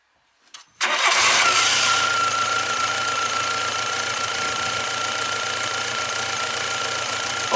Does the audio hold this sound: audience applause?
no